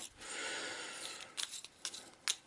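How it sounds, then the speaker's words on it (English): Board game cards from an Eldritch Horror deck being given a rough shuffle by hand, a close, dry riffle of rustling card noise with a few sharper flicks and slaps toward the end. "So we'll give this a wee shuffle"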